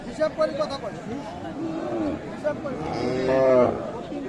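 Deshal breed cow with calf lowing at a cattle market in Aftabganj, Dinajpur, with several moos rising over a steady crowd hubbub and nearby voices talking.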